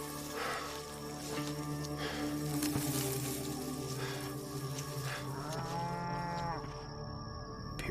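Cattle mooing outdoors on a farm, several drawn-out low calls rising and falling over soft background noise, with one long clear moo near the end.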